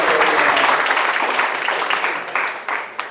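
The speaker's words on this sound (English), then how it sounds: "Please give her another round of applause." Dinner audience applauding at an annual charity dinner, a dense sustained wash of clapping that stays loud for about three seconds before gradually thinning.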